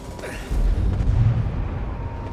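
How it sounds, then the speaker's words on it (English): A deep, muffled blast rumbles through a research facility under attack in Mass Effect 2, swelling suddenly and then fading into a low lingering boom with no voices over it. "Shield yourself from the blast."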